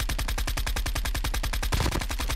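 Rapid automatic gunfire from a gun in a video game, a steady fast stream of evenly spaced, loud, close shots that runs unbroken for a couple of seconds with no talking.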